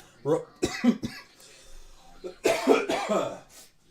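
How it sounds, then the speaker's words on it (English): Several harsh, throaty coughs in two bursts, close and fairly loud, with a brief throat-clearing sound between them. "My wife can't stop coughing."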